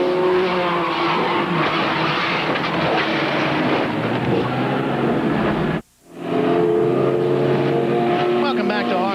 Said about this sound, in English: You're going to take this crash real time.